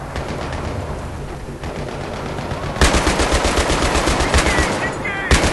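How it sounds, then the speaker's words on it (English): Rapid automatic gunfire in a Battlefield 3 co-op mission, a dense rattle of bursts that grows louder and sharper after a quieter opening stretch. "I was shooting at everyone, it was epic."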